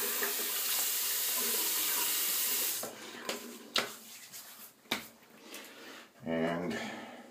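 A bathroom tap runs steadily for several seconds as water is splashed on a face before a shave, then stops, leaving brief splashes and rubbing sounds while someone talks nearby.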